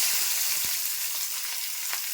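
Three green chillies, half an onion and three or four garlic cloves sizzle in hot oil left from frying eggplant, a steady bright crackle throughout with a few faint pops and no talk.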